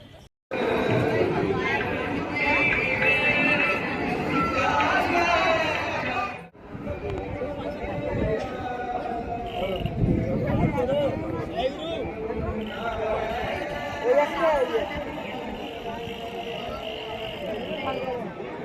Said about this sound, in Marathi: आता इथे खूप गर्दी आहे